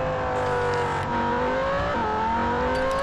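A Silvia race car accelerates in Real Racing 3 at Melbourne. Its engine whine climbs steadily and shifts pitch through gear changes, sounding loud and close without a break for about three seconds.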